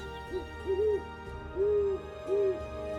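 An owl in the Amazon rainforest gives a series of soft, low hoots, four separate calls in an uneven rhythm, each one clear and close against a quiet, steady background of forest ambience.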